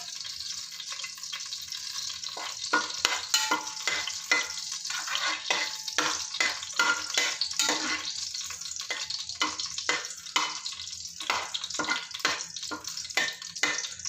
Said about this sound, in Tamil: பிரிஞ்சி இலையை போடுறேன். இந்த ஸ்டார் அனைஸும் போடுறேன்.